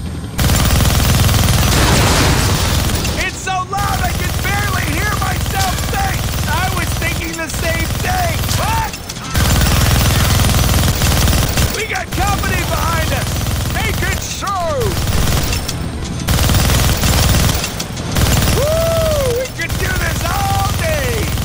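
A minigun in a Deadpool video game fires in long, sustained dense bursts of rapid gunfire with brief pauses, loud and continuous, while a voice talks over the shooting.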